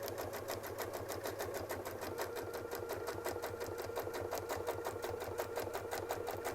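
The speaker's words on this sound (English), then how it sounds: "And now we'll get sewing" Sewing machine stitching a quilt block, a steady, fast rhythmic needle chatter running continuously at close range with no talk over it.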